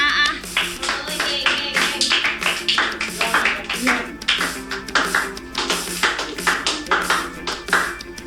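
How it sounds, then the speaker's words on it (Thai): A small group claps hands in a loose, uneven rhythm of sharp, close slaps, joined by laughter and chatter as people talk throughout. "ปรบมือให้เขาหน่อย"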